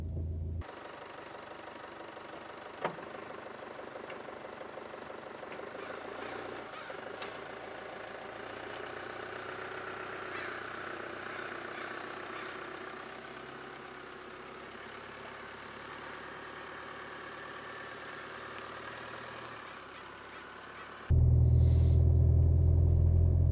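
A Chevy Colorado diesel pickup crawls in drive, its engine holding a steady low idling drone with a mechanical knock for about twenty seconds before a sudden louder rumble near the end.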